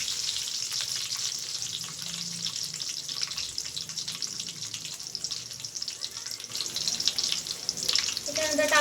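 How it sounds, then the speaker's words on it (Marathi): Garlic and cumin seeds frying in hot oil while being stirred in a pan, a steady bright sizzle running throughout with occasional scraping and a brief watery rattle near the end. "आता घ्यायचं आपल्याला त्याच्यात लसूण। हलवून घ्यायचं चांगलं।"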